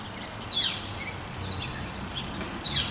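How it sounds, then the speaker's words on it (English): Birds chirp outdoors in short, high, fairly faint bursts over steady background noise, with a few distinct calls spread across the moment. "I love the sound of the birds in the background"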